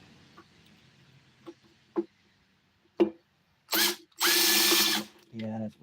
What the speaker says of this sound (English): Drill to crack it loose.